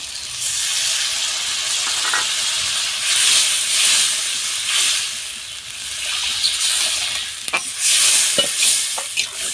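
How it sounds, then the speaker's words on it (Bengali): Water is poured into a hot pan of fried spiced vegetables for a Bengali fish roe curry. A loud, steady sizzling hiss of steam fills the sound, with a few faint clinks and no speech. "মশলা সবজি কষানো হয়ে গিয়েছে এখন আমি জল দিয়ে দিই"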